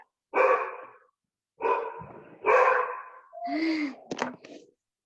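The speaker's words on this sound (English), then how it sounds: "No barking." A dog barks in several loud, close bursts across a few seconds, separate woofs and yelps with heavy breaths between them, indoors during a conversation.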